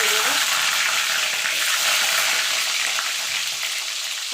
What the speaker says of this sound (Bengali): দেখুন বন্ধুরা তেলটা গরম হয়ে গেছে। এবার ডিম চারটে দিয়ে দেবো।